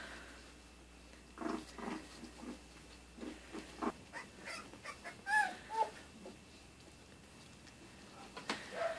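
Three-week-old puppies play near by, giving a run of soft whimpers, squeaks and small yips in bursts over a quiet background.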